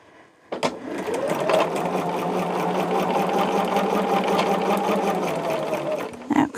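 A sewing machine stitches steadily for several seconds with a fresh bobbin, a close, even mechanical whir with rapid ticking, starting and stopping abruptly.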